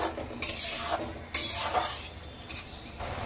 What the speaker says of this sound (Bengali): এবার ভালো করে মশলাটাকে কষতে হবে।